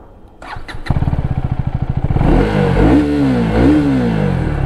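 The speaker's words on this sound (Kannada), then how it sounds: "ಎಕ್ಸಾಸ್ಟ್ ಈ ಥರ ಕೇಳಿಸುತ್ತೆ, ಇಂಜಿನ್ನ ಸೌಂಡು ಈ ಥರ ಕೇಳಿಸ್ತಿದೆ" A few clicks, then a 2024 Husqvarna Vitpilen 250 motorcycle engine fires up into a rapid, close putter before revving up and down loudly.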